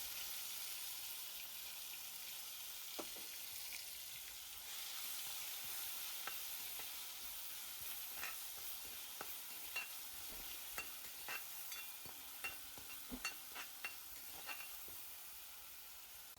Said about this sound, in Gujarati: તમારે એની અંદર છે ને ગાર્લિક મરચાંની જે જિંજરવાળી પેસ્ટ હતી એ નાખી દેવાની છે